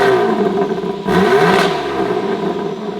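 BMW G8X engine revved with its exhaust valves closed, giving a muffled, moderately loud rise in engine pitch around the middle of the clip before it settles back to a steady idle, nearby and alone.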